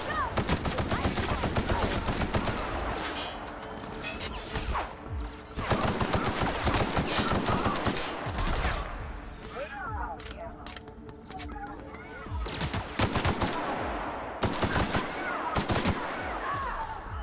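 Gunfire in The Outer Worlds video game comes in repeated dense bursts of shots, loud and close, with brief gaps between volleys and a constant layer of game sound underneath.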